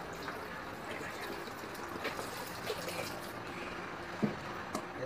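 Water poured into a homemade detox juice with apple and cut lemon, making a quiet, steady trickle for several seconds over background hiss, with a few small clinks.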